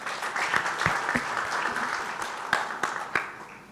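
Audience at a business conference on joint-venture financing and investment applauds steadily, a dense wash of clapping with a few sharper individual claps standing out, fairly distant and moderately loud, with no talk over it.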